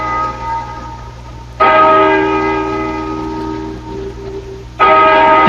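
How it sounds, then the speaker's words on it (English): A church bell rings in a 1974 old-time radio drama set by an old barn, with two loud resonant strikes, each leaving a long humming decay over a low background hum. "Listen to that bell."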